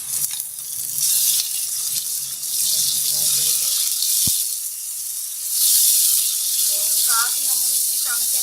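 Chicken mince dropped into a pan of browned garlic, ginger and onion: a steady, loud hiss of frying with a sharp clack partway through and brief speech.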